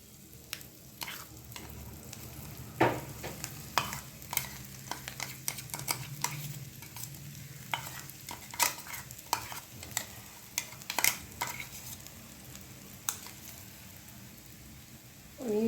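Spoon stirring a ground spice mixture with red chili powder for tur dal kachori filling, scraping and clinking in repeated strokes over a soft, steady background sizzle.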